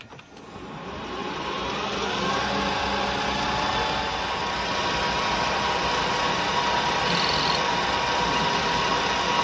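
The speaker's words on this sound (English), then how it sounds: "let's get over to the lathe and let's get machining. First of all, I'll face and centre the end." A metal lathe faces and centres the end of a steel chuck key, a steady close mechanical hum and whine with layered tonal drone running without pause after a brief start-up, no voices.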